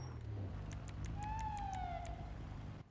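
A short video game police siren chirp rises and falls once over a low vehicle engine hum, with faint rhythmic clicks alongside.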